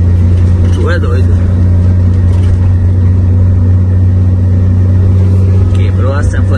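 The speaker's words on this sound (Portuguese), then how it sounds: "Parece um barulho de caminhão descuidado, caminhão detonado, sei lá." Rough, loud engine drone from a car with a broken, rusted-through exhaust bellows, a steady low rumble that runs throughout with voices talking over it.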